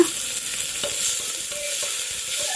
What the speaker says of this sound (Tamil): ஆனியன் நல்லா வதக்குங்க